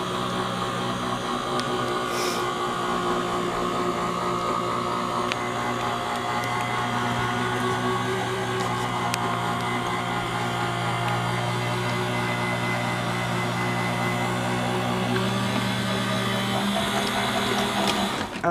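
A Gemini die cutting machine feeds paper through on its own, giving a steady, loud motorized hum with a mechanical whir that runs unbroken throughout.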